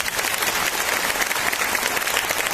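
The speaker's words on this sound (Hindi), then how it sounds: "लेकिन ताली ऐसी कैसे बजा रहे?" An audience claps steadily in a dense, close burst of many hands, fairly loud and sustained over a couple of seconds with no voices standing out.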